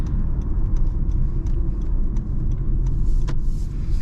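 Highway road noise inside a 2023 Honda HR-V with a CVT, a loud steady low rumble of tires and wind with faint occasional ticks and a brief rustle near the end, no voices.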